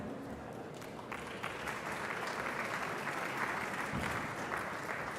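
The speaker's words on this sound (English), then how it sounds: "you can applaud one more time." An audience at an energy cooperation conference applauds, a dense, sustained clapping that swells slightly and continues evenly throughout.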